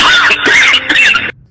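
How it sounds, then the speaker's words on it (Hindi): A phone caller tune made of loud coughing plays as a short burst of harsh, raspy coughs, close and strong, ending abruptly. "बहुत हो गया है खांसना"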